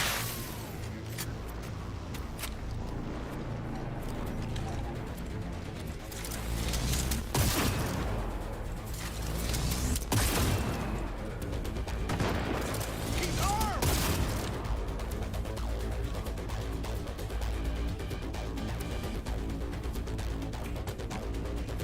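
Gunfire in the video game Cyberpunk crackles in scattered bursts and sharp single shots over a steady action backdrop, heaviest near the middle. Voices can be heard talking through it.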